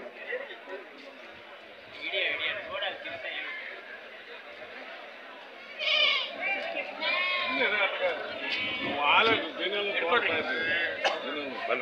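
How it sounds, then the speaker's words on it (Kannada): Young goats bleat repeatedly at a busy weekly baby goat market. Several animals call near and far over a steady hum of crowd chatter, and people talk throughout. "ತುಂಬ ಇತಿಹಾಸ ಪ್ರಸಿದ್ಧವಾದ ಮರಿ ಮೇಕೆ ಸಂತೆ"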